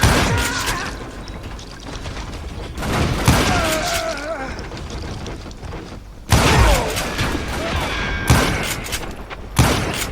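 Rifle shots from the Call of Juarez Gunslinger video game crack out in several sharp, loud reports spread over a noisy western firefight, with other gunfire and impacts between them.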